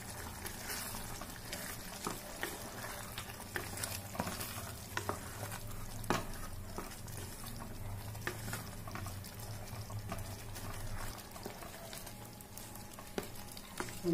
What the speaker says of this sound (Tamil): தேங்காய் சேர்த்துட்டு நல்லா கலக்கிட்டு